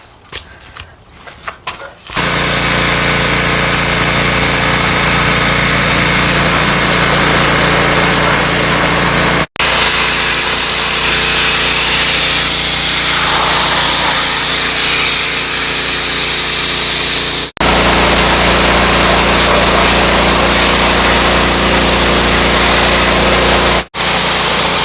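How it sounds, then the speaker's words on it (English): A pressure washer's small engine runs steadily and loudly for about twenty seconds after starting up, with a constant high-pitched drone and a few brief dropouts, no talking over it. "We can just set up the pressure washer right over here."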